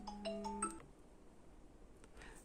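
A phone ringtone for an incoming call, a quick melodic sequence of bright electronic tones in the first half second, then fading into quiet room noise with faint later clicks.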